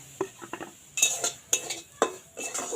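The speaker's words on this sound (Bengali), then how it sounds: "এরপর দিয়ে দেবো সুজি সুজিটা ভালোভাবে এটা ভাজতে লাগবে" Semolina frying in a little refined oil in a hot wok is stirred with a metal utensil, giving sharp scraping clinks at irregular intervals over a soft, faint sizzle.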